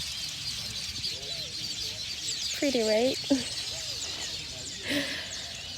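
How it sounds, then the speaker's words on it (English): Birds calling outdoors in Queen Elizabeth National Park, Uganda, a few clear repeated chirping phrases at mid distance over a soft ambient background, with a person speaking briefly. "You'd wake up to sounds of birds like this."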